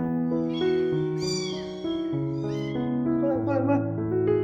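Several loud, close meows from a small abandoned kitten. They rise and fall in pitch over steady background music.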